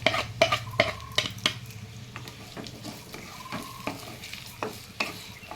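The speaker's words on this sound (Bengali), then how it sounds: "এবার এর মধ্যে এই যে ভেজানো গোবিন্দভোগ চাল আমি ভালো করে দিয়ে মিশিয়ে নেব।" Soaked Gobindobhog rice is lightly fried and stirred in a pan. A utensil scrapes and clinks against the metal in irregular strokes over a faint sizzle, close and moderately quiet.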